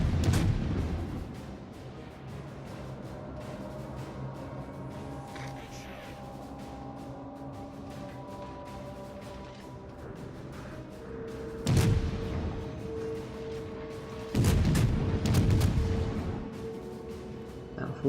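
Naval artillery from warships in World of Warships, a ranked match with a heavy cruiser Atago and Kutuzov cruisers: several loud booming salvos, one near the start and two heavier bursts later, over a steady game drone and background engine hum.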